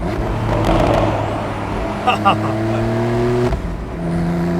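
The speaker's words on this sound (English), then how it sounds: "the sports exhaust sound doesn't do this 911 justice" A Porsche 911 Carrera 4S (991.2) sports exhaust roars steadily as it accelerates through a tunnel, the sound boomy and enclosed, with a brief rise in engine pitch midway.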